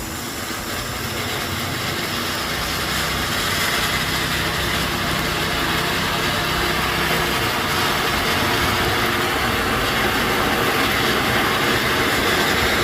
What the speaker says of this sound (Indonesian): Mercon air mancur super jumbo.